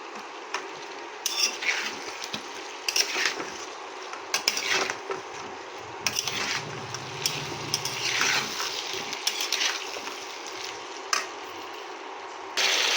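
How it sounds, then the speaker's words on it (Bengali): Malabar spinach stalks being sautéed with potatoes in a pan, a low steady sizzle with repeated close scraping and clattering stir strokes at irregular intervals, no talking. "শুধু ডাঁটাগুলো দিয়ে আলুর সঙ্গে আমি একটু কষিয়ে নেব"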